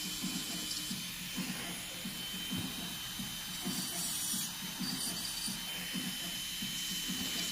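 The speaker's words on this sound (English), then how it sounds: "I'm cleaning everything and I'm filing everything till the end." A nail file works steadily across fingernails during a manicure, a soft, close scratching in an even back-and-forth rhythm that carries on throughout over a low, constant background hiss.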